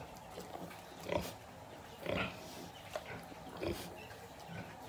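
Twelve-day-old piglets grunt and squeal in short bursts near a mother pig, about four louder grunts spaced roughly a second apart over quieter pen noise.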